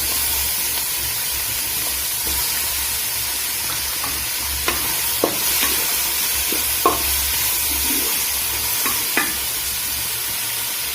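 Four medium onions, chopped, frying in hot oil in a pan for a homestyle chicken curry: a steady loud sizzle with occasional scraping clicks from stirring, and no voices.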